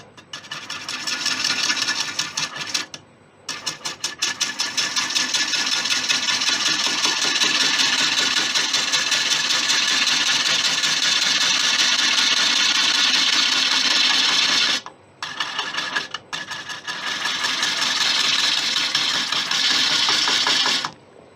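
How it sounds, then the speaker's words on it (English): A wood lathe cuts an acacia and resin bowl, a loud, steady scraping drone with the tool briefly lifting off twice for near-silent gaps before the cut resumes. "So I need to slide the blade right down to cut that bump off."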